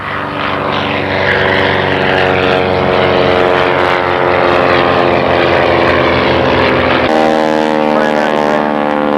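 An L-17 Navion propeller airplane flies at a 1993 Clark County air show, its engine a loud, continuous droning roar that shifts pitch partway through as it passes close.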